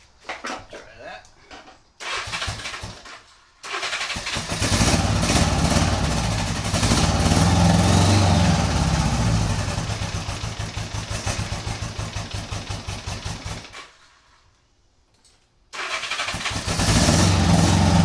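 A 1975 Honda Goldwing 1000cc motorcycle with the choke on cranks and fires, then runs loud and steady at close range for about ten seconds before dropping out briefly and catching again; voices come through around the engine noise.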